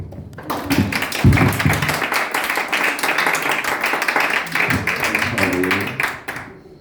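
A crowd applauds steadily for several seconds, a dense wash of many hands clapping at once before it tapers off at the end.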